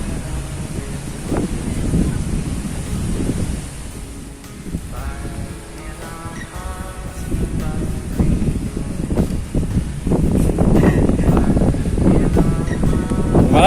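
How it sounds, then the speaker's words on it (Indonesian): Strong wind roars across the microphone during a night hike up Mount Kencana, a steady loud rushing that swells and gusts, with faint voices and other indistinct sounds underneath. "Angin"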